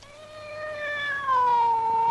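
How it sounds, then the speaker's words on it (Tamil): A cat gives a single long, drawn-out meow that rises and then slides lower, loud and close, with nothing else heard. "இது பூனை."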